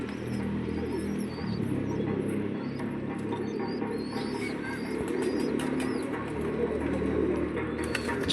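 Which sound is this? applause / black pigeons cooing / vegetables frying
black pigeons cooing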